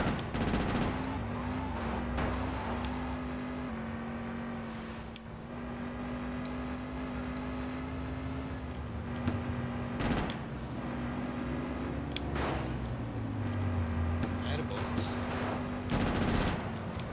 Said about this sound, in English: Stop shooting innocent taxi guys.